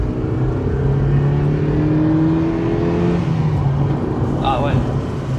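A Mazda MX-5 NB (NBFL SG edition) with 112,000 km pulls away and accelerates, its engine note climbing steadily and staying loud and close throughout, with voices talking over it.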